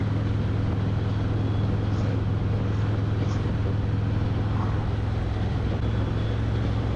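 Steady low road and engine hum from a Harley-Davidson Road Glide motorcycle cruising along, a constant drone with wind rush, continuous and even throughout.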